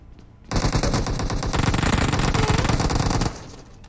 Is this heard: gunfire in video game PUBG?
yes